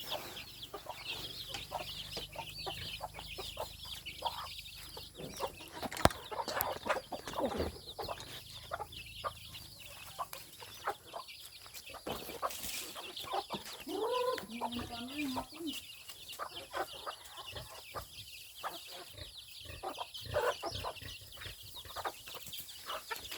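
Native chickens, hens, a rooster and pullets, cluck and chatter continuously at close range for over twenty seconds, with occasional louder calls and a person speaking at times.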